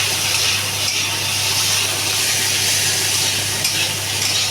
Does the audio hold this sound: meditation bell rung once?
no